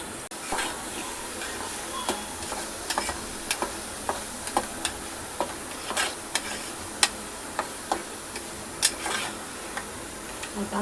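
Half-cooked dal frying in a pan while being stirred, a continuous sizzle broken by regular clinks and taps of the spoon against the pan, close and unvoiced.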